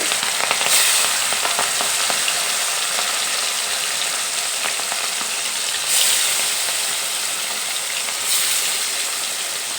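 Fish pieces hit hot mustard oil one after another, setting off a loud, dense, continuous sizzle heard up close, with a few brief swells as more pieces go in.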